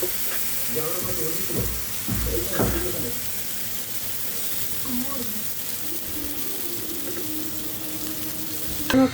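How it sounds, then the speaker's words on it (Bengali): Thick eggplant slices fry in hot oil with a steady, close sizzle, while a spatula clatters now and then and voices briefly talk over it. "বেগুনের চাক ভাজিটা আমি উঠিয়ে দিচ্ছি"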